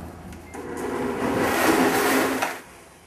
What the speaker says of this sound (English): It's going to be loud for about 10 or 15 seconds, but it's necessary in grinding everything to make sure it becomes a complete puree.